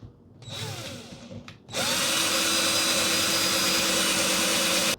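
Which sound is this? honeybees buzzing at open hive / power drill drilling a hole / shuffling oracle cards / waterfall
power drill drilling a hole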